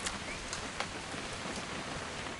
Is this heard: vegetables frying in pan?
no